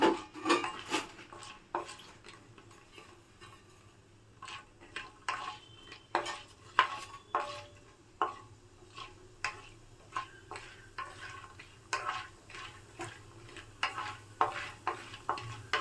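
Peanuts and lentils stirred in oil with a mixing stick for puliogre gojju, a quiet pan with repeated rhythmic scraping clicks and taps and a faint sizzle beneath.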